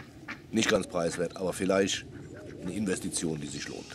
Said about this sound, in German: Gänse, man hört sie ja im Hintergrund, nicht Gänse, Enten